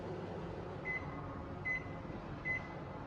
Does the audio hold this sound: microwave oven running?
yes